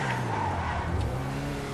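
A sports car in GTA V Online drives with a steady, low engine drone, held at even loudness with no voices over it.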